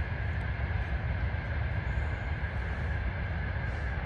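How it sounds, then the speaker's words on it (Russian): A freight train rolls past through a snowy December forest, a steady loud rumble of wheels and wagons that holds constant throughout without letting up. "Поехал товарняк."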